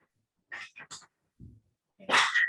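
A pet dog in a house gives several short yips and whimpering barks, close and in separate bursts with silent gaps between, ending in a louder cry.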